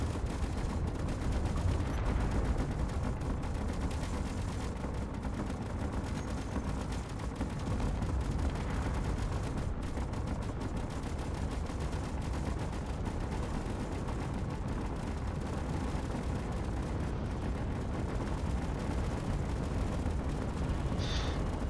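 Ship turrets fire continuously in Space Engineers during a battle with a flying fortress, a dense unbroken clatter of rapid shots and blasts held at a steady loud level with no talking.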